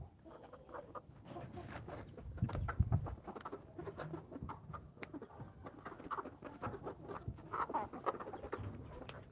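Ameraucana hens on a farm cluck softly and intermittently at close range over a low, steady background hum, with scattered small scratching and rustling sounds.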